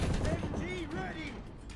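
A machine gun fires in a War Thunder battle, a dense, rumbling burst of rapid shots close by that loudens at the start and then tapers a little, with faint voices in the mix.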